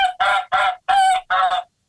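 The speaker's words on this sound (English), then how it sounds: "That's it. Steve Spill's mind-reading goose." A magician's trained goose honks five times in a quick, regular series of loud, harsh calls close by, each separated by a brief gap, then silence.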